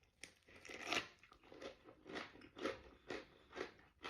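Crunchy potatoes topped with Korean chicken sauce are bitten and chewed up close, a quiet run of crisp, crackling crunches in an uneven rhythm with no talk.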